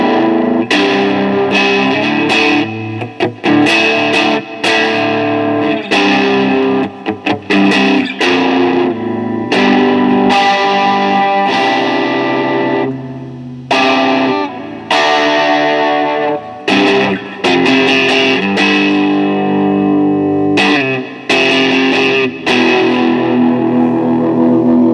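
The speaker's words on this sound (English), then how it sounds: "And finally, Echo." Electric guitar played through the Echo preset of an EHX Cathedral reverb pedal, loud continuous strummed chords and picked notes with a distorted edge and repeating echo tails, no talking.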